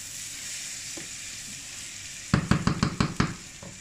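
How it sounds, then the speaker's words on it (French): Rice frying with chorizo, garlic and onions in a pan for a Spanish-style risotto: a quiet sizzle, then a quick run of about six sharp stirring knocks and scrapes against the pan. "le riz, il va bien absorber la graisse du chorizo, l'ail, les oignons."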